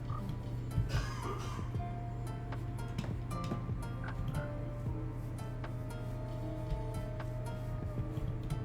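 Frogs in Minecraft croak in short, repeated calls over a low steady hum. Faint clicks and tones from the game are mixed in, and no one speaks.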